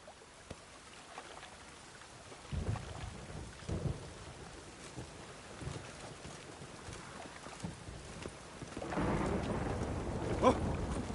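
Heavy rain falls in The Witcher 3, a steady wash of downpour with low rumbling swells that build louder toward the end, heard without speech.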